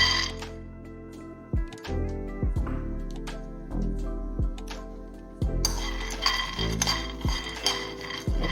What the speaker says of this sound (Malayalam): ഇനി ഒരു പാൻ എടുത്ത് വെച്ചിട്ടുണ്ട്, അപ്പോൾ അതിലേക്ക് നമുക്ക് ആ കപ്പലണ്ടി ഇട്ട് ഒന്ന് വറുത്തെടുക്കാം